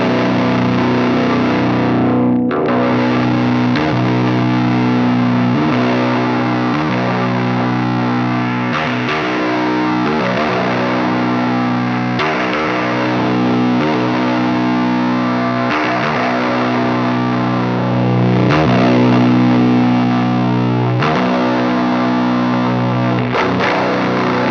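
Heavily distorted electric guitar holds a thick sustained tone through an amp, with repeated strums and shifting texture as the amp controls are adjusted, loud and steady throughout.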